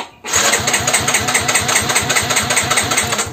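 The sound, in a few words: Yamaha scooter electric starter cranking engine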